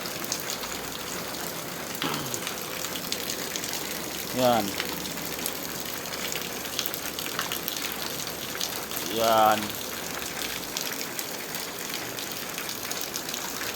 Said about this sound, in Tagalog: kahit na malakas yung ulang guys